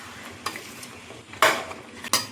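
Chicken and spices with turmeric are stirred in a pan, a few distinct scraping strokes and clinks of a utensil over a low background sizzle, with no speech.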